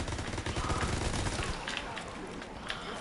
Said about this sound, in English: He's going to keep shooting fire at me.